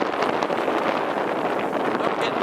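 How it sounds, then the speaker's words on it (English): Steady wind roars across the microphone aboard a sailboat during a race, with gusts running 12 to 18, a constant broadband rush with no pauses. "Winds gusting 12 up to 18."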